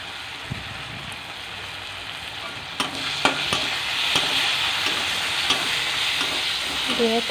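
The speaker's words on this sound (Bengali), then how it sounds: "পেঁয়াজ দিয়ে দিলাম তেলের মধ্যে" Sliced onions fry in hot oil in a pan with a steady sizzle, broken by a few clattering stirs near the middle.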